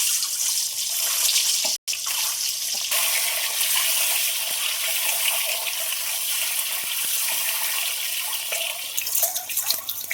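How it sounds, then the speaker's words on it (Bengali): Eggs frying in hot oil in a kadai while making egg dalna with boiled potatoes, a steady loud hiss and sizzle that runs continuously with only a brief break. "তো ডিমগুলো ভাজার জন্য দিয়ে দেবো।"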